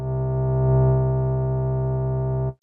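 A steady sine wave tone from the Retro Synth synthesizer, a loud, sustained pure hum with faint harmonics that holds evenly for about two and a half seconds before cutting off abruptly.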